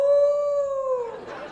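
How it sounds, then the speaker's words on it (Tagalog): Dogs howl nearby, one long, loud, sustained wail that slowly drops in pitch before breaking into fainter, rougher howling at the end. "Bakit ang ingay-ingay ng mga iro dyan? Mga aso."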